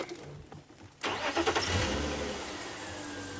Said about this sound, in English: Always important to let the car run for a few seconds